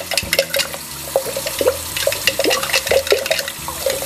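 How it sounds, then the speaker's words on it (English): Spoon stirring honey into a container of hot water, a continuous close-up watery swirl with light clinks. "and then I start to stir it."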